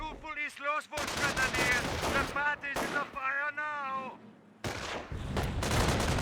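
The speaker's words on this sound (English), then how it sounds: "Bar squad firing away against the Flam Warpers." Gunfire from a BAR squad in Company of Heroes 1, rapid automatic bursts and mixed battlefield shots in a multiplayer match, loud and dense, interleaved with a caster's excited commentary and brief short gaps.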